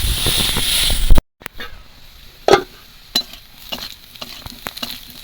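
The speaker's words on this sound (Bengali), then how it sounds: "আলুগুলো ভেজে নিচ্ছি" Potatoes fry in oil in a wok, a soft steady sizzle with a few sharp clacks of stirring, close and without talk.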